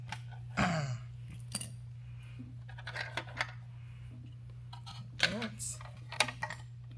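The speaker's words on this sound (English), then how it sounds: "Clip that zip tie that is holding this in place." A zip tie is snipped off a Talaria MX4 electric motorbike, giving sharp clicks and snaps with small clattering handling noises over a steady low hum.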